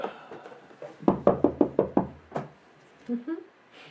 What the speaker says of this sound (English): I don't see what knocking would hurt.